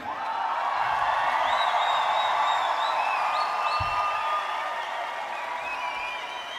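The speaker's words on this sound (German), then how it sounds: "Jetzt macht's mal einen riesen fetten Applaus für den Mike am Schlagzeug da hinten." Audience at an open-air brass music festival applauding the drummer, a broad, steady wash of clapping with scattered cheers that swells and then slowly eases off.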